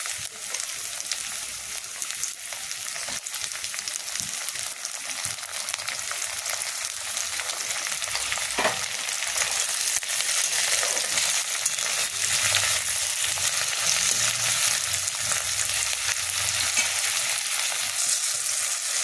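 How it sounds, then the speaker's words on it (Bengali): Onion, tomato and spices fry in oil for a soybean curry, making a loud continuous sizzle with occasional scraping stirs and crackles throughout. "এই দেখো এই মশলাটা একটু লাল লাল করে ভাজা হয়ে গেছে"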